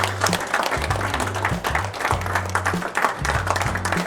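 Audience at a business meeting clapping together in a steady, continuous burst, with a low tonal music bed running beneath the applause.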